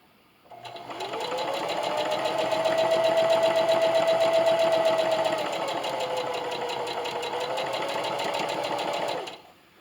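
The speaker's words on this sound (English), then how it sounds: "I'm going to backstitch at the beginning and the end here." A sewing machine stitches a Christmas stocking with backstitching, a close, steady mechanical whir with a rhythmic needle clatter that runs for about nine seconds, its pitch shifting slightly as it slows, then stops.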